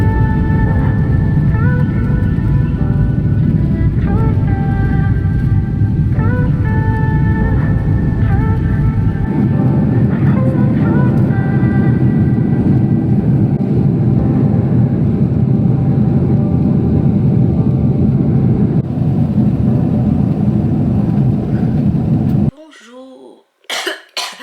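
Airplane cabin noise during a night flight, a loud, constant low roar that runs for over twenty seconds with faint murmurs and coughs on top, then cuts off abruptly into brief quieter sounds.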